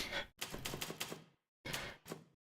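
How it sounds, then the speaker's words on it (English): Typewriter keys clatter nearby in quick irregular bursts of sharp strikes, a run of about seven clacks, a pause, then two or three more. "I'm just using a typewriter at this point."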